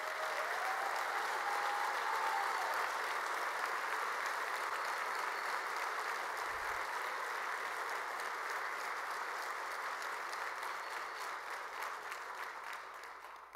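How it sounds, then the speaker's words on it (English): An audience at an EMS conference keynote applauds for veterans, with dense, sustained clapping from a large crowd that holds steady and then slowly fades. "let's get a round of applause for the 22 million veterans who are celebrating Veterans Day today"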